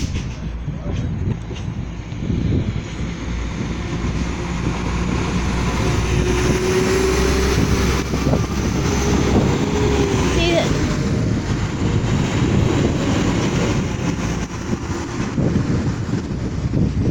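A West Midlands Railway class 172 diesel train passes a level crossing at Cradley Heath: a steady, loud rumble builds and holds for many seconds, with heavy wind buffeting on the microphone throughout.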